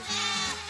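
A goat on a black goat farm gives a single short, steady bleat, close and fairly loud, with no talking.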